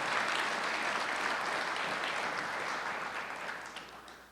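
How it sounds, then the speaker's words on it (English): An audience claps at a high school honors and scholarship program, steady broadband applause that holds for about four seconds and tapers slightly near the end, with no talk over it. "Round of applause."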